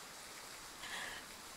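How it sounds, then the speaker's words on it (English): Steady rain falls in a Triangle Strategy game scene, a soft, even hiss of drops that continues throughout at low volume with no talking. "Rain! Honest to goodness,"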